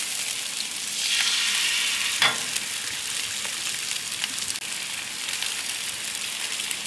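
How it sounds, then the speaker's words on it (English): Eggs frying hibachi style on a Blackstone griddle, a steady, close, bright sizzle with a brief scrape or clatter partway through and no talking. "And then we're going to cook some eggs."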